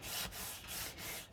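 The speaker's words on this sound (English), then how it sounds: "Now we're going to burnish it some more" Glued paper pieces for a mini album are burnished together by hand, giving a few short, soft rubbing strokes in a quick back-and-forth rhythm, close and quiet.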